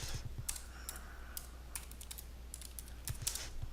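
Keys tapping on a computer keyboard while a search title is entered into a business database, sparse irregular clicks in short bursts, fairly close and alone.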